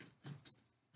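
A pair of scissors cutting tape, heard as a few short close snips and rustles spaced apart, ending in a louder sharp cut.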